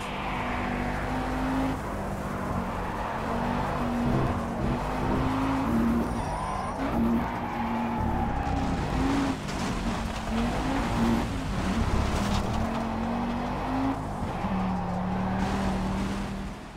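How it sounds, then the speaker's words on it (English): A race car engine in Project Cars drones steadily throughout, its pitch rising and falling with gear changes, accompanied by tire and road noise and no talking. "I just love the sounds of the engine here"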